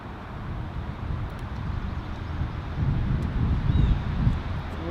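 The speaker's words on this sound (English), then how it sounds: "Oh, it's getting a little windy." Steady wind roars and buffets outdoors, a low rumbling gust noise that swells louder toward the end, with no voices.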